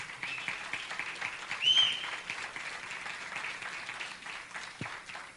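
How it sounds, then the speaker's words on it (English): A crowd at a political talk applauds in a soft, distant patter of many hands, fairly quiet and continuous, with a brief brighter swell partway through. "Yep, you clap."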